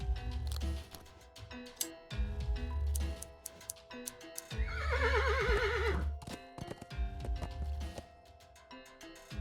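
Horse in a point-and-click adventure game whinnies in a wavering neigh midway, framed by repeated short clip-clop hoof taps and ticking game sounds, quiet and fairly close.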